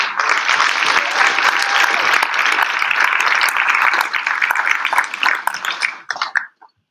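An audience at a Cincinnati mayoral debate claps in a full, even round of applause that thins out and stops near the end, leaving a moment of quiet.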